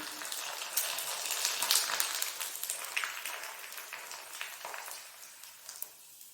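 Sun-dried rice wafers (elai vadam) frying in hot oil, a continuous bright crackling sizzle with scattered pops, moderately close and fairly faint, with no one speaking.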